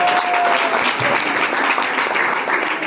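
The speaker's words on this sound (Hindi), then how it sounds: "आप एक बार जोरदार ताली" Loud applause from a crowd at a birthday celebration for a teacher, dense continuous clapping close by for the whole stretch.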